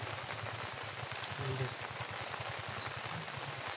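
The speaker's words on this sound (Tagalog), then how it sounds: "Grabe ulan naman Jerson." Steady heavy rain patters and hisses continuously, a dense wash of drops with no voices.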